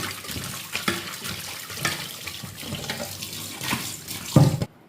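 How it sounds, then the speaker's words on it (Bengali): Rohu fish are washed under a running kitchen tap, a steady close splashing flow of water with handling knocks and a louder burst near the end before it cuts off. "এখন মাছগুলো ধুয়ে নিচ্ছি"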